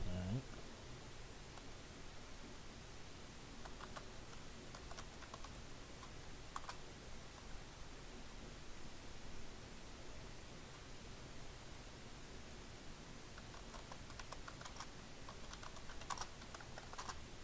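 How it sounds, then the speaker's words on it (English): Faint, scattered keystrokes tap on a computer keyboard in irregular bursts over steady low hiss, with quiet background voices and no strong rhythm. "I see you're typing."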